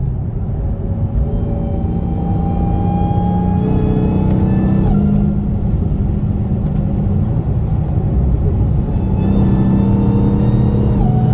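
Dodge Charger SRT Hellcat with a Demon engine, recorded from inside while driving through traffic: a loud, constant engine drone and road rumble that rises through the gears, dips, then climbs again.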